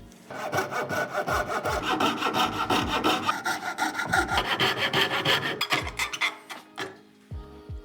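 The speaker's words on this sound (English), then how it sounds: "So I'm gonna cut this by hand." Wood is cut by hand with a hand saw in rhythmic, rasping back-and-forth strokes, loud and close, slowing and stopping near the end.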